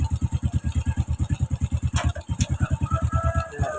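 A motorcycle engine idles steadily during routine servicing, its close, even pulsing firing rhythm holding throughout with faint background clatter and no rise in revs.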